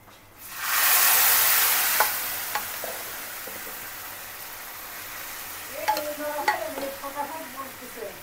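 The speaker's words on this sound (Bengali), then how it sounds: "পেঁয়াজটা লাল লাল হয়ে আসছে, এখন দিয়ে দিচ্ছি আলু।" Sliced potatoes tipped into hot oil with browned onions, a loud frying hiss that swells quickly and then settles into a steady sizzle, with scattered stirring clinks and scrapes near the end.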